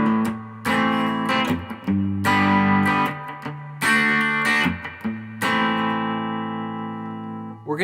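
The opening section of a song is strummed on guitar, bright rhythmic chord strokes with short breaks, ending on a long ringing chord that fades out, no talking.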